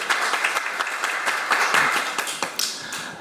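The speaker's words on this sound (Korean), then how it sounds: "큰 박수로 맞아주시기 바랍니다" An audience at a medical policy forum applauds to welcome a neurologist to the stage: dense, sustained clapping from a room of people, close and fairly loud, thinning slightly toward the end.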